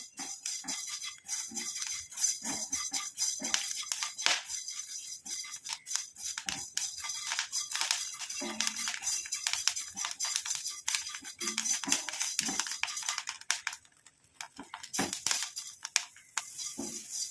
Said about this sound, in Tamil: வெந்தயத்தை கொஞ்சம் லைட்டாக வறுத்ததுக்கு அப்புறமேட்டு நம்ம கரிஞ்சீரகம் சேர்த்துக்கலாம்